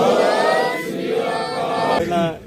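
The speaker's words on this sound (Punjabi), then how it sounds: "ਇੱਕ ਰਿਜ ਕਾਰਾ ਛੱਡਦੇ ਹਾਂ ਜੀ ਆਪਾਂ ਬੋਲੇ ਸੋ ਨਿਹਾਲ" A gathered crowd at a Sikh gurdwara gathering shouts a jaikara response in unison, a loud collective cry that swells and holds for about two seconds before fading.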